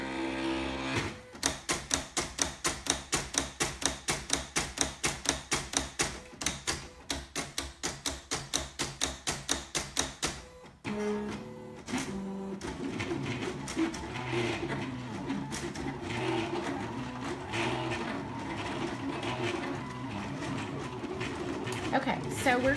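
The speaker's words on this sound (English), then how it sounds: "Okay, so we're cutting," Silhouette Cameo 3 cutting machine cutting a design, starting with a steady rapid rhythmic ticking and whirring for about ten seconds, then shifting to an irregular mechanical buzz as a person talks over it.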